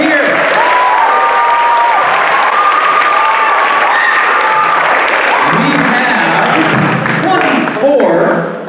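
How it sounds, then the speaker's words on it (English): An audience at a poetry recitation finals event applauds loudly and continuously, with a dense wash of clapping and some cheering and voices mixed in. "Let's give a big round of applause for everybody that's here."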